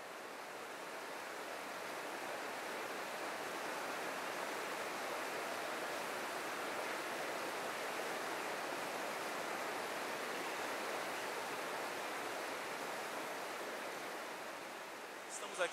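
Steady broadband rush of the Gongogi river flowing past its bank in Ibicuí, Bahia, a continuous even wash of water that holds constant for the whole stretch with no voices over it.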